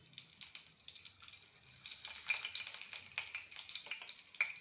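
A spoonful of mustard seeds sizzles and crackles in hot oil for a Gujarati dal dhokli tempering, with a soft, continuous hiss broken by scattered sharp pops that grow busier toward the end, close and alone.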